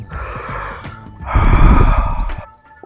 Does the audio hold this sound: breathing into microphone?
yes